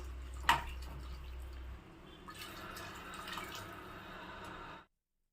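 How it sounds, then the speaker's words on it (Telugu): Water splashes and trickles into a pot of tomato rice nearby, a steady pouring rush that continues for a few seconds and then stops abruptly. "ఇప్పుడు నేను మూడు గ్లాసులు వాటర్ వేసుకోవాలి"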